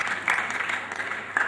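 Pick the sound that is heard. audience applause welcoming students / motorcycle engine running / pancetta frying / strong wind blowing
audience applause welcoming students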